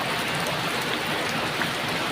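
Rain falls on a garden in the morning, a continuous even hiss of drops at moderate loudness with no talk over it.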